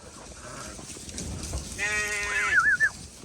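Quiet rustling and shuffling, then a sheep lets out a clear wavering bleat near the end, close and moderately loud.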